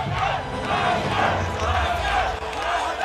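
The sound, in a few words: crowd chanting for fighter Mite Yine in Naypyidaw, Myanmar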